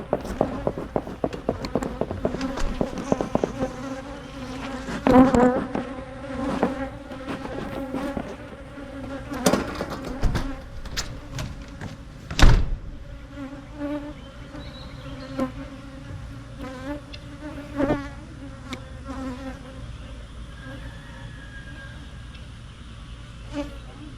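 Honey bees swarm and buzz around a beekeeper on a homestead, a dense droning hum with close passes and some sharp knocks and rustles, one loud thump midway.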